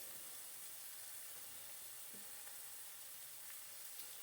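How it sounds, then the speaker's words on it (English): Food sautéing in a pan for a green plantain dish, a steady close sizzle and hiss running unbroken throughout with a few faint clinks. "So we're gonna let this saute up a bit, just to get it kind of softened up a bit."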